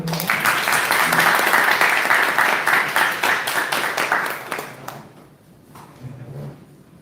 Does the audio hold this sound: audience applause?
yes